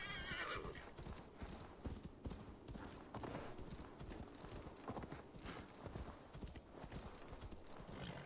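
A horse in Assassin's Creed Valhalla clip-clops along at a steady gait while whinnying loudly near the start, with hoofbeats continuing close and even beneath game ambience.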